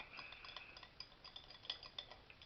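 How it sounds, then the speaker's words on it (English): A spoon stirs zero-sugar lemon lime drink mix, making a faint, steady run of quick ticking clicks and scrapes against the container, close by with no talking. "Stir it here just a minute."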